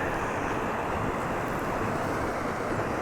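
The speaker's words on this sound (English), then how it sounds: "I think it's more breezy today." Steady breezy wind blowing outdoors during a range test, a constant broadband rush with wind buffeting the microphone, holding at an even level throughout with no voices.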